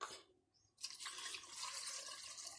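Water is poured into a rice cooker over stewed jerk pork: a short trickle at first, a brief pause, then a steady close splashing stream that runs until the end, with no talking.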